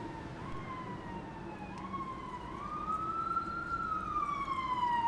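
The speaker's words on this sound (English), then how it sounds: "Nothing like a wailing siren on a spring morning." A distant siren wails on a spring morning, its tone rising and falling slowly over steady traffic rumble, growing gradually louder.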